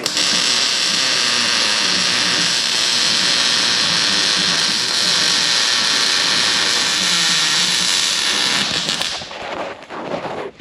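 Welding a pass during practice: a continuous loud crackling hiss of the arc that holds steady for several seconds, then sputters and cuts out into brief scattered noise near the end.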